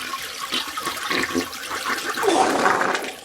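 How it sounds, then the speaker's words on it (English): A household toilet flushes with a rushing gurgle of water that swells toward the end and then drains away. It is heard close up and alone, used as a sound effect. "I flushed him down the toilet, of course."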